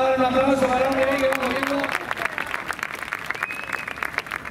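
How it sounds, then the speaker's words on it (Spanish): Applause from a small group for a friend during a rally event in the Canary Islands, scattered clapping rising after a sung or shouted voice fades, with chatter around it. "Vamos a dar un aplauso para un amigo."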